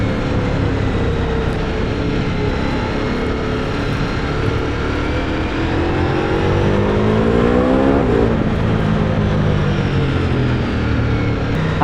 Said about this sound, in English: A little bit throttle input and it goes.